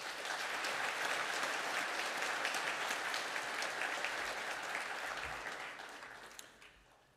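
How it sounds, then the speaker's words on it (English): Sustained applause from a graduation ceremony audience, a dense steady clapping that fades gradually toward the end, with no talk over it. "Can I have a round of applause for the graduates?"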